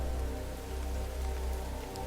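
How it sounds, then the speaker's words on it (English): Steady rain falls on leaves and earth outdoors, a dense, even patter that holds close and constant throughout with no voices. "Listen to the rain."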